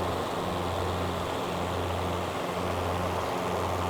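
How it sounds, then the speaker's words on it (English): A Skyhawk Bushkit light propeller plane flies past in Microsoft Flight Simulator 2024, a steady loud engine drone with a constant broadband roar and low hum that stays even throughout, without talk. "There we go with the flyby."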